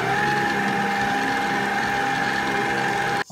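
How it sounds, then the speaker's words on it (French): An electric mixer churns beignet dough of flour, eggs and milk, a steady close mechanical whir with a grinding gear tone that holds for a few seconds, then cuts off abruptly. "J'ai mis tous les ingrédients, on va mélanger"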